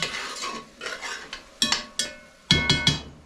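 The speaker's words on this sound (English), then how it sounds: "Go ahead and give it a stir." A spoon stirs garlic and onion in a pot, a series of sharp metallic scrapes and clinks in irregular strokes, close and clear with no talk.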